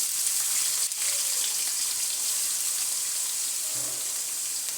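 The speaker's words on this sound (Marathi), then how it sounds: "त्यात मी थोडेसे असे आलू फ्राय करून घेते" Potatoes frying in hot oil with cumin and mustard seeds for sabudana khichdi: a steady, close bubbling sizzle with a faint crackle, continuous and even with no voices.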